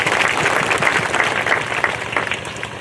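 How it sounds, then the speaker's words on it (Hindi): Sustained applause from a church congregation at a thanksgiving Mass, dense steady clapping filling the room without a break, fairly loud and near, with no voices over it. "उनके लिए भी बहुत जोर से ताली बजा दीजिए"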